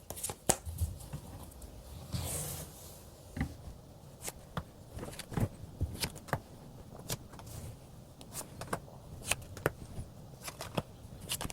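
Tarot cards being shuffled and drawn, a quiet run of crisp flicks, slaps and riffles in irregular bursts, close by with no talking.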